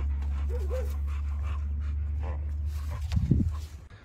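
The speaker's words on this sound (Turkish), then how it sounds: "şimdi kurtardığımız pitbullumuz var" A rescued pit bull pants steadily close by over a constant low background drone, with a louder burst of rough breathing near the end.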